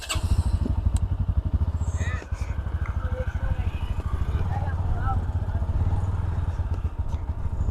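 Bajaj Pulsar NS and Honda Shine motorcycles rumble steadily at a drag race start, a loud close engine drone with pulsing low exhaust throughout while people talk over it.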